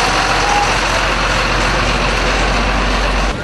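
A North River Towing tow truck rolls through a fall fair parade, its engine giving a loud steady rumble with a brief high beep near the start, close by and without talk.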